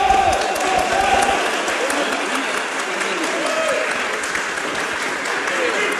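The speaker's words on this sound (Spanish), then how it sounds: "un aplauso para esos héroes." Legislators in a chamber applaud anonymous heroes present, steady sustained clapping from a crowd with voices talking over it throughout.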